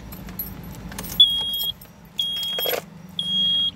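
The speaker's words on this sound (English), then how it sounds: "I'm turning the car on." A car is started with keys: a jangle of keys, then repeated electronic warning chimes come and go in three bursts over a low engine hum.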